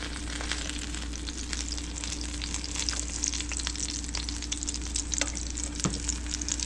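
Cajun-seasoned fish pieces sizzle and crackle steadily in a hot pan, a dense continuous frying hiss with scattered pops, close and fairly loud with no talking.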